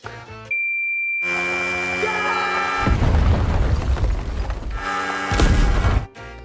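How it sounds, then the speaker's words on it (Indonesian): A sustained ringing tone gives way to a loud, rumbling bomb blast in a film with crackling debris, followed by a second heavy burst before cutting off. "sudah terpencet bom pun meledak"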